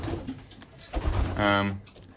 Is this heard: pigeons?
yes